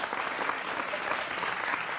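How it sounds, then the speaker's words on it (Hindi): Applause from the audience at a live Hindi comedy poetry show, a steady dense clatter of clapping with no voices over it. "ताली बजाते रहे ना।"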